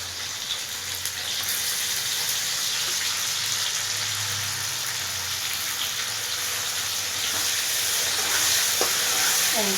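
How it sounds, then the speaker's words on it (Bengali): Potatoes and chopped tomato fry in a pan, giving a steady, fairly loud sizzle with soft hissing throughout and occasional stirring scrapes near the end; no one speaks. "এবার একটু নাড়াবো, লাল লাল করে আলুটা ভাজবো। টমেটো কুচোটা দিয়ে দেবো।"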